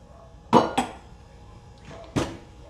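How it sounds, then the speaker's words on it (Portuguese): A cooking pot is set down on a stovetop to heat: two quick clattering metallic knocks close together, then a single further clank a moment later, fairly near, with a quiet room in between. "Vou colocar a panela aquecer aqui"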